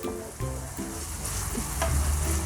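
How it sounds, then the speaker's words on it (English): Onions sizzling and being stirred in a hot pan while cooking a home-made brain pepper fry; a steady close frying hiss with scraping stir sounds and no talking. "we'll start frying it till the onions are nice and translucent"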